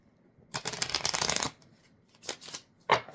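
Tarot cards being shuffled close up in quiet surroundings: one long riffling burst, then two short separate flurries of card noise.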